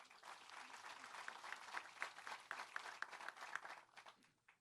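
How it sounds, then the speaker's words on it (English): Audience applause at a university partnership kickoff event, a sustained wash of clapping from a crowd in a hall, moderately distant and fairly quiet, tapering off at the end. "So one more round of applause, please."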